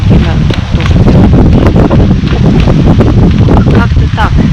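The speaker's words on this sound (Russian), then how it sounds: "Сильнейший ветер, 44 километра в час, 50 порывы." Very strong wind at about 44 km/h with gusts to 50, roaring and buffeting the microphone on a small river island, loud and continuous with rustling throughout.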